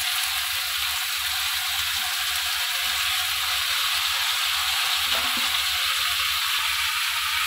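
Boiled banana flower is frying in a pan for a shrimp dish, giving a steady, loud, unbroken sizzle with faint scraping of stirring underneath.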